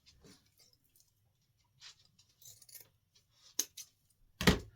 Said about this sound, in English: I have sharpened my scissors